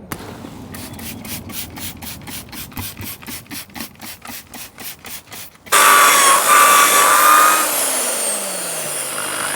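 A Proton Wira's rear wheels being scrubbed, with a rapid run of rhythmic rubbing strokes followed by a louder, steady rushing wash close by.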